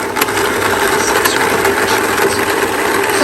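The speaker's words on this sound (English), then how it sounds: "So right now I'm blending the carrots, and I put a little bit of water with some carrots," Kitchen blender running loud and close as it purees carrots with a little water, a continuous motorized whir with a gritty, churning texture and no talk.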